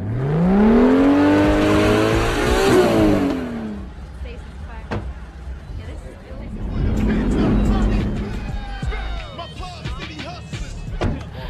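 Street racing cars rev and roar in a film scene, with a loud rising engine whine at first, then rumbling idle and more revving, all under overlapping speech.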